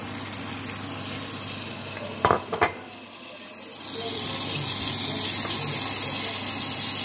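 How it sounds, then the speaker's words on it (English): Browned lamb curry base in a pan takes dry spices, ginger and garlic: a low simmering hiss, then a couple of sharp knocks and a brief quieter pause before a loud, bright sizzle swells up and holds steady. "this is now browned enough for me to add the dry spices and ginger and garlic"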